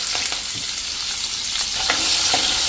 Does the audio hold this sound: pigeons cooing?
no